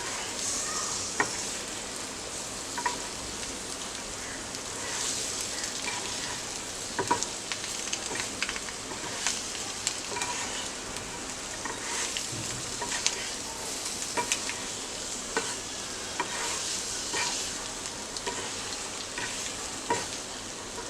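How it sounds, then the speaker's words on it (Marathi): Egg masala with quartered boiled eggs and salt sautéing in a pan over low heat, a steady bright sizzle throughout with scattered scraping stirs, close and alone. "आता स्लो गॅसवर 1 ते 2 मिनिटं आपल्याला असं परतून घ्यायचं आहे।"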